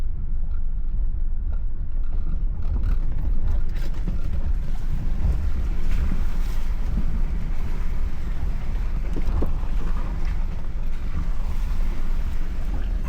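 An overland vehicle pushes through a water crossing on an Ozark trail, a continuous rushing, sloshing wash with low rumble and wind buffeting, steady and close for several seconds without voices.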